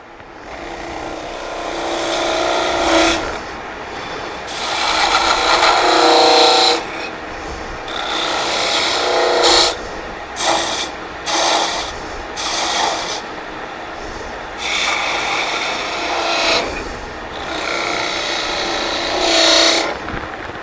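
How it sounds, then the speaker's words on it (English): A wood lathe turns an oval tool handle while a spindle gouge cuts it, giving loud bursts of scraping, chattering noise that start and stop repeatedly, with short quiet gaps between passes. "I'm going to switch to a little smaller spindle gouge."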